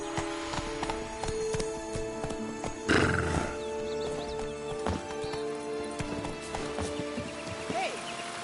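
Horse hooves clip-clop steadily as a horse gallops in The Witcher 3 video game, with a whinny partway through and a brief louder burst near the middle, set against a continuous game soundscape.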